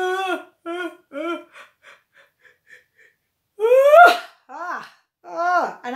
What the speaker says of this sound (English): I'm going to start yawning